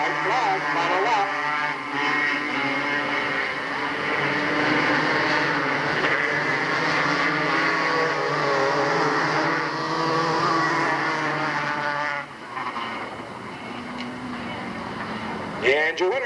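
Race cars roaring around the oval at Delta Speedway on the final lap of a 1997 race, a continuous loud engine drone under excited announcer commentary throughout.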